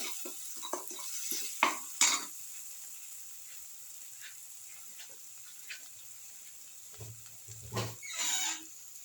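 Spoon stirring a garlic mung bean and rice casserole, scattered scraping and clinking knocks with a soft background sizzle, some brief louder clatters near the end.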